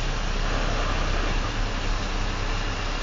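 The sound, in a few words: truck engine running before shutdown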